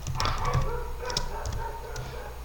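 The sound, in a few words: neighbour's dogs barking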